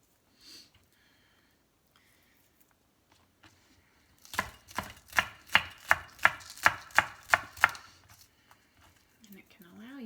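A knife chopping food on a cutting board for a keto tuna salad, a quick burst of about ten sharp, evenly spaced chops close by, with sparse quiet sounds before and after.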